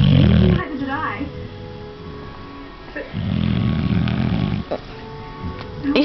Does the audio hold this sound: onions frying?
no